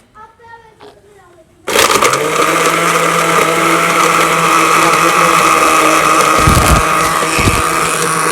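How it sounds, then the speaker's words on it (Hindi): Herbal fever remedy ingredients, including giloy and atees, are ground in an electric grinder, which starts abruptly after brief speech and keeps up a loud, continuous whirring roar close by. "अब इसको मैं ग्राइंडर पर रखूँगा"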